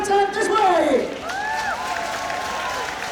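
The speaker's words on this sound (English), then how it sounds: "Rapturous applause from around this fully packed stadium" A packed stadium crowd applauds the winners of a women's rugby sevens final in Amsterdam, a broad, distant wash of clapping and cheering running under a loud announcer's amplified voice.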